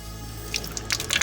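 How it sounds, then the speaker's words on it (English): Water running and splashing from a tap on an off-grid homestead's water system after a freeze, close and fairly soft, with scattered drips and splatters growing busier toward the end. "We have running water again!"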